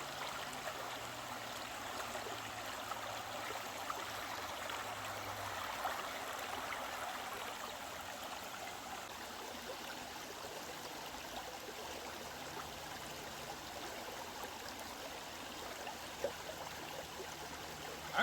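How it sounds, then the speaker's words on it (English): Steady trickling cold water pours into a bottle, running continuously at a low level, a soft pouring and gurgling with no voices. "we'll get rid of this, what is now hot water, fill it with some cold water."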